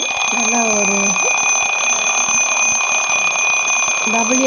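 A twin bell table alarm clock, powered by a single AA battery, rings loudly in a continuous rapid metallic trill. A voice speaks briefly over the ringing near the start and again at the end.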